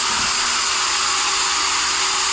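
A concrete floor grinder runs steadily in a garage during epoxy floor preparation, a loud, continuous broadband whir and hiss that holds constant throughout without pause.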